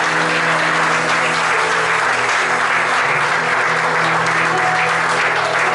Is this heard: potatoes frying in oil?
no